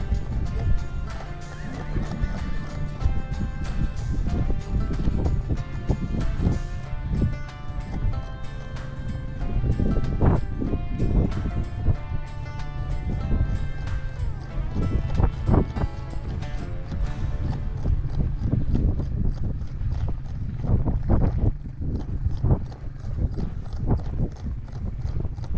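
Ranch mares being moved through a tunnel, hooves clip-clopping steadily and close with loud whinnying and neighing over wind noise throughout.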